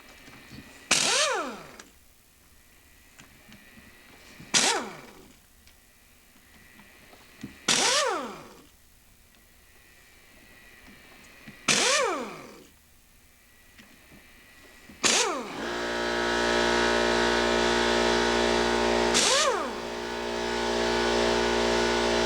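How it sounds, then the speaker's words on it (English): Impact driver working loose fasteners on a BMW K1200LT motorcycle final drive: four sharp, loud rattling bursts spaced a few seconds apart, each decaying quickly, then a sustained steady whir with one more burst on top near the end. "I'm inclined to use an impact driver"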